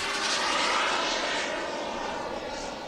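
A gas turbine RC model jet, powered by a 160 engine, roars steadily overhead with a loud, broadband turbine whoosh and high whine that slowly eases as it passes, with no talk.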